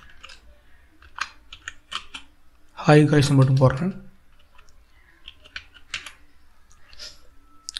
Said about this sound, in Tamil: இப்போ பார்த்திங்க அப்படின்னா நம்ம ஒரு சிம்பிளாக ஏதாவது டைப் பண்ணுவோம்